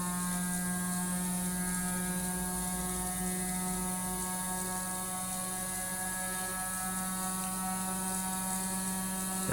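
A battery-powered motor spinning at several thousand RPM gives a steady, continuous whine with a low hum beneath it, holding level throughout.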